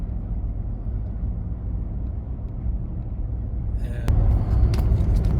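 Car driving along a private drive, giving a steady low road rumble and engine drone throughout that swells louder in the last second or so, with no clear talk.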